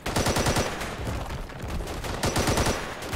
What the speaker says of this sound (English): Machine gun there, not even firing at us. Oh, there it goes, finally.